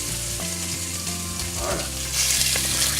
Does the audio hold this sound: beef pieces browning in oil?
yes